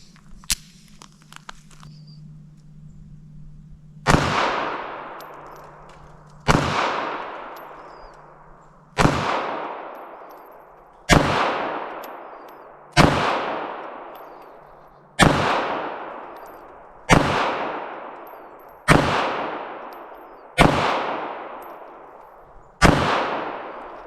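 A Bodyguard 2.0 .380 pistol fires Blazer 95-grain full metal jacket rounds in a slow, evenly spaced string of about ten loud, sharp shots, each ringing out with a decaying echo.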